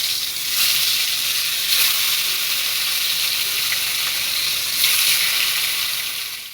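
Parshe fish coated in turmeric and salt drop into smoking-hot oil in a kadai, raising a loud, steady sizzle with bright hissing surges as each piece goes in.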